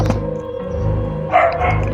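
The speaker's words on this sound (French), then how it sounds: "Faites pas attention aux aboiements. C'est le kleps des voisins." A neighbours' dog barks close by, one sharp bark at the start, then a longer yelping bark near the end, over a steady low drone.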